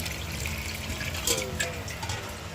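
Water is poured into a pot of cut potatoes set to boil, a steady close trickle and splash running the whole time with a brief louder gush midway.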